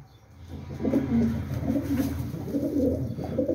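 Racing pigeons at a Polish homing pigeon breeder's loft coo in soft, low repeated phrases, fairly close and continuous under a faint room hum.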